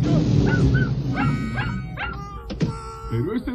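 A cartoon dog in the Spanish-dubbed animated series Foofur gives a quick run of high yips, short barks and whimpers, close and clear over a low background hum.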